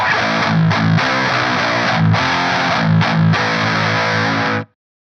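Heavy, saturated distorted chords from a Fernandes Ravelle baritone guitar tuned to A, through a Grindstein distortion pedal and power amp, ring out loud and thick for several seconds, with brief choppy breaks, then cut off abruptly into silence.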